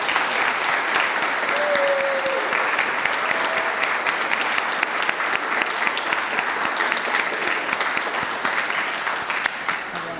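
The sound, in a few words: audience applauding employees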